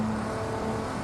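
A brief, steady engine drone from a 1983 Porsche 911 930 Turbo in a racing game, a constant humming whir with a faint tonal buzz and no change in pitch.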